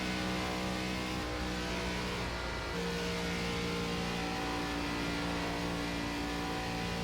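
An ARCA stock car laps a track in the iRacing sim with a sustained, buzzing engine note held at high revs. The pitch dips briefly near the middle, then climbs back to a steady whine.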